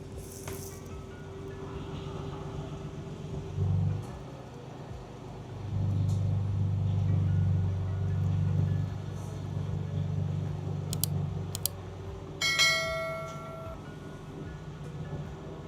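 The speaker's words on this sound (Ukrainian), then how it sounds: "Зверніть увагу, як рівненько буде зараз обертатися новий кардан." A new driveshaft spins on a Ford F150 Raptor under repair, giving a steady mechanical drone with a swelling rumble midway and a few sharp clicks near the end.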